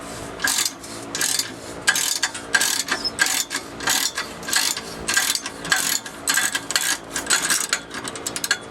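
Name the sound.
ratchet with 15mm socket removing catalytic converter bolts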